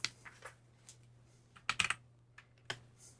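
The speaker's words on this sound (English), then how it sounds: "I'll just start typing in Infinity." Computer keyboard typing while entering a search for an eBay listing, a few scattered bursts of quick clicks with pauses between, fairly quiet over a steady low electrical hum.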